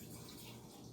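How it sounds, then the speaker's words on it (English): Liquid poured from a large container into a Pyrex glass cup, a steady continuous splashing trickle that stays even and close for the whole second with no voices. "Pour some from your big container into there and then swish it back."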